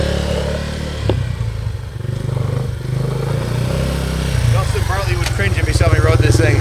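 Engine of a 1983 Yamaha YTM200K three-wheeler runs close by with a steady low throbbing idle, then revs up and picks up pace as the trike rides off, with a voice talking over it.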